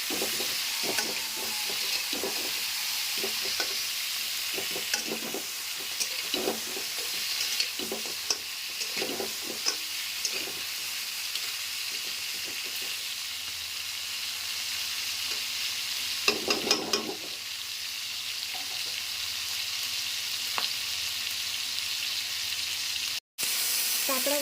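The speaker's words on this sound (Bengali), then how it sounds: "কাঁকড়াগুলোকে নেড়ে চেড়ে" Crabs stir-fried in a pan for a spicy crab dish give a steady, close sizzle across the whole stretch. A spoon scrapes and clatters against the pan again and again, with a louder burst of stirring partway through.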